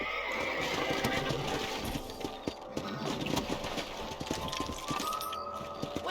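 In Red Dead Redemption, horse hooves clip-clop steadily while a horse whinnies, amid busy outdoor game ambience with no talking.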